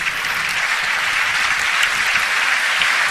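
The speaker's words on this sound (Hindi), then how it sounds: "बजानी है तो भरपूर ताली बजाएं" Dense, steady audience applause fills a tribute event for Pakistani television host Tariq Aziz, a continuous wash of clapping at even loudness with no voices over it.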